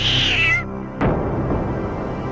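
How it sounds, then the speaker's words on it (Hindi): A cartoon cat gives one bright, drawn-out meow up close, followed by a sharp hit and a bed of background music. "अरे भाग भाग, जल्दी बिल्ली आ रही है,"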